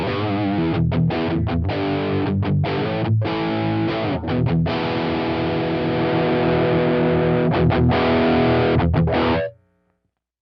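Electric guitar through an Xtom Mini Tangerine amp sim with a clean gain boost, a crunchy, driven chord riff with rhythmic stops, playing continuously before cutting off abruptly near the end.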